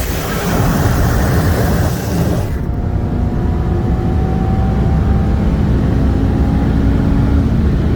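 A 2021 Shelby GT500 with the Carbon Fiber Track Package and a 2018 Audi RS3 running bolt-ons on E85 race hard, a loud, steady engine roar and wind rush that swells abruptly, then holds as a sustained drone with no talk.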